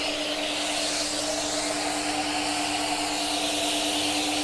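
A commercial foam car wash pressure cleaning system with a variable metering valve runs steadily, giving off a continuous loud hiss and spray with a constant low hum underneath, and no one speaks.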